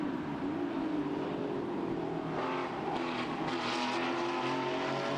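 A Porsche 993 race car engine roars steadily at high revs on track at the Red Bull Ring, a dense droning tone that rises and swells toward the end, with no voices.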